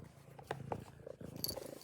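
A house cat purrs softly and steadily close by indoors, a low, quiet rumble with a few faint bumps and no voices.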